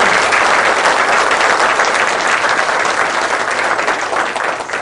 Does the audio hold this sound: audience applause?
yes